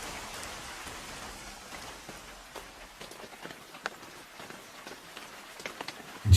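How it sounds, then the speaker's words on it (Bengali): Steady rain falls continuously, a soft, even patter of drops on surfaces with a few sharper, closer drips toward the end and no voices. "সকাল থেকে এক নাগাড়ে বৃষ্টি হচ্ছে, থামবার কোনো নাম নিচ্ছে না।"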